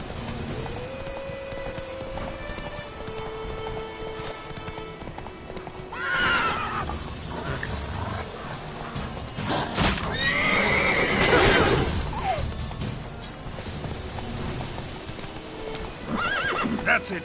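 Roach, the horse in The Witcher 3, gallops with a steady hoof rhythm that runs the whole time and lets out clear neighs and whinnies partway through, with little talk over it.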